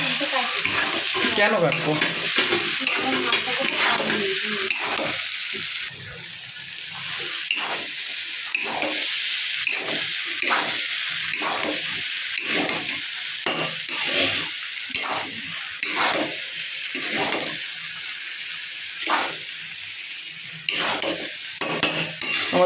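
Chickpeas fried with spices are stirred in a pan with a steady sizzle, and a spoon scrapes and clinks against the metal in a repeated rhythm while a person briefly speaks.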